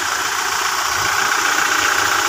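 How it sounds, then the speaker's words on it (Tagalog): A Toyota Fortuner's engine idles steadily just after a new starter was fitted, giving a close, even mechanical hum with a faint knocking texture and no talk. "So pinalitan natin yung kanyang starter, bago na. Mandar na din."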